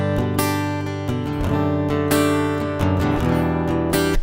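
A Fender CC-60SCE acoustic guitar rings out through its pickup with the pedal switched off, strummed chords sustaining bright and clear with several fresh strums across the passage.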